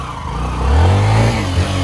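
Bajaj Passion Pro motorcycle engine revving hard while off-roading through mud, a close, loud mid-pitched roar that rises and holds, dipping briefly near the end.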